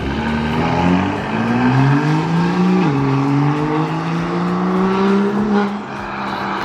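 A BMW M2 with the N55 engine and a new intercooler revs hard from a distance, its exhaust note climbing through gears with a shift dip midway, then easing off near the end.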